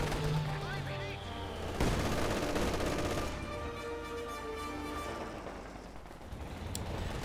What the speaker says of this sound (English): And DP machine gun here equipped by some Sturmpioniere.